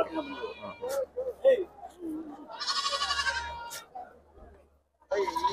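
Goats at a sheep and goat market in Chitradurga bleat in a loud, wavering cry lasting about a second, between stretches of close conversation, with another bleat starting at the end.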